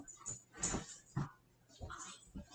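A dog whimpers and yips in short high-pitched bursts, several brief whines spaced irregularly, faint and close in a quiet indoor room.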